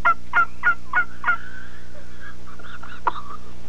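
Champion turkey callers imitating turkeys by voice: a run of five sharp, evenly spaced gobbling yelps, then a drawn-out warble and a final squawk, loud and close with no other talk.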